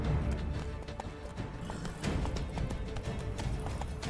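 Roach, the horse in The Witcher 3's Blood and Wine expansion, gallops with a fast, continuous clip-clop of hooves, close and steady throughout with no talking.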